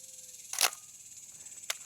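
A Minolta X700 film camera shutter fired at 1/25 second gives a sharp close mechanical snap, then a second, lighter click about a second later as it closes, against a quiet background.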